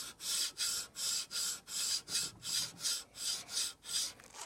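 A file draw-filed along a metal barrel makes a rhythmic, raspy scrape, about ten even strokes at a steady pace, close and clear with no talk.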